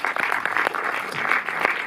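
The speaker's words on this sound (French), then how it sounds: "Vous pouvez à nouveau les applaudir je pense" A short burst of audience applause after a film screening discussion, close dense clapping from a room of people, lasting under two seconds.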